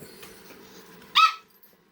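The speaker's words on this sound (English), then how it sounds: "I gotta take some dogs outside." Dogs indoors give a single short, loud bark burst after a stretch of quiet room noise, with nothing following it.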